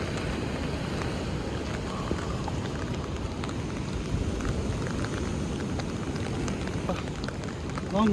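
Rain falls on a beach during the rainy season, a steady, close wash of hiss and patter with wind noise mixed in, continuous and fairly loud throughout with no clear talk.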